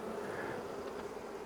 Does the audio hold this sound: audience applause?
no